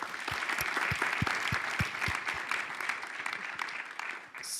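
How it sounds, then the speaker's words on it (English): A conference audience gives a warm, steady round of applause for Ayman Cheikh Lahlou at a pharma business talk, a dense wash of many hands with a few louder nearby claps standing out early on. "please join me in giving a warm round of applause for Ayman Cheikh Lahlou"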